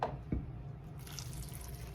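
Half a cup of water poured into an Instant Pot while making apple crisp, a brief splash at the start of the pour followed by a soft steady trickle in a home kitchen.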